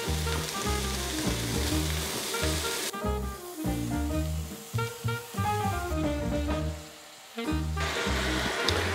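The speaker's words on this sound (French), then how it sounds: "On va maintenant écraser les tomates pelées dedans." Frying vegetables and garlic sizzle loudly in a pan while peeled tomatoes are crushed into it, with a strong continuous hiss broken by bursts of stirring and squashing; in the middle, tonal musical sounds, a probable backing track, play beneath it.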